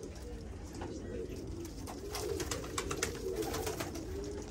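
Flying tumbler pigeons coo in a steady low rumble that swells midway, with scattered rustles and clicks throughout and a voice likely mixed in.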